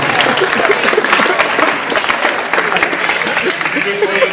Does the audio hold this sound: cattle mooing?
no